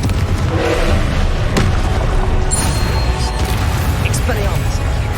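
A Confringo fire spell explodes in Hogwarts Legacy, a booming burst among dense, continuous combat noise with thuds and crashes, with spoken voices over it.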